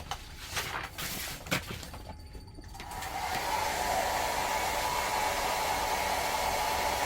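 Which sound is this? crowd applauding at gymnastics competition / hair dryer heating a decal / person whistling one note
hair dryer heating a decal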